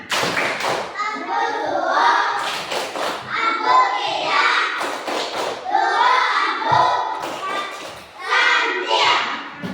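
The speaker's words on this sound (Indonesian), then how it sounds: "sekarang semuanya ibu kasih tepuk santian" A classroom of children performing a tepuk santai clapping routine, with rhythmic bursts of claps and thumps alternating with a teacher's voice and children chanting along, loud and close throughout.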